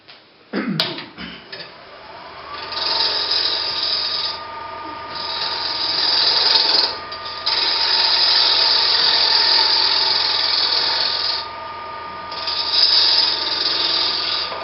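A woodturning tool does a shear scrape or shear cut on a spinning lathe workpiece, giving a sustained raspy hiss over a steady motor hum that swells and dips in long passes after a sharp knock at the start.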